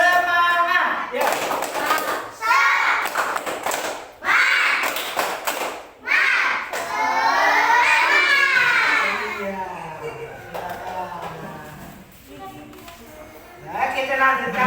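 Children in a classroom clap a rhythmic 'tepuk semangat' spirit clap together with a teacher, in bursts of sharp, loud group claps, with children's voices and talking mixed in between the bursts.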